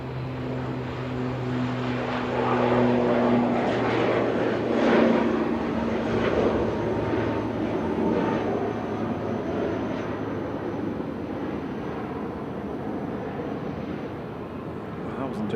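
An Aer Lingus Regional propeller aircraft, registration G-CMMK, on flight 3611 to Belfast at Manchester Airport drones steadily with tonal propeller hums, rising and then gradually fading, while someone talks over it.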